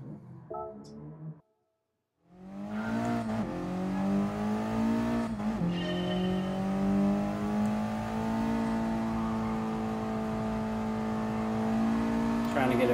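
A 1996 Mitsubishi Lancer Evolution 4 race car in GT Sport revs up after a short silence, its engine note climbing and then holding a loud, steady drone for the rest of the stretch, with brief voice sounds at the start.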